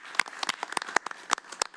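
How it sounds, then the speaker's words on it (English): Scattered, uneven clapping from a modest crowd, with sharp individual claps standing out over a thin, continuous patter. "give a round of applause"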